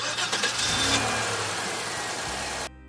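The 429 Cobra Jet V8 of a 1970 Mercury Cyclone Spoiler 2 muscle car fires and revs briefly, then settles into a rumbling idle, close and fairly loud before cutting off abruptly.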